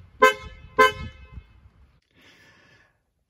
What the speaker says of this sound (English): the horn is a little bit better, as you can hear here. The G11B horn.